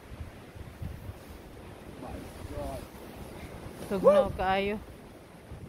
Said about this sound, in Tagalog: But the winds are chirping.